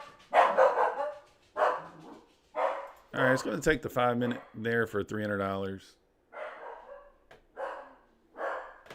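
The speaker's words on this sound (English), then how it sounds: "Dog started barking." A dog barks in a short burst of several loud yaps in the middle, set between stretches of someone talking.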